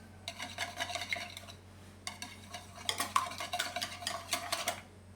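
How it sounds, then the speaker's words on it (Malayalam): A whisk beats egg omelette mixture with ground pepper in a bowl, giving rapid scraping and tapping strokes in two bursts separated by a short pause, close and fairly soft. "ഈ വിസ്ക് വെച്ച് നന്നായിട്ടൊന്ന് മിക്സ് ചെയ്യാമേ"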